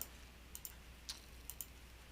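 Typing numbers on a scientific calculator: a handful of light, separate key clicks spaced unevenly over a faint, quiet background, with no talk.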